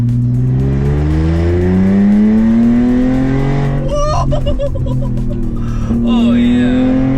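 Audi A4 Avant swapped with an S4 3.0T engine, exhaust open, accelerating hard with a loud rising engine note and shifts, heard from nearby, with people talking over it.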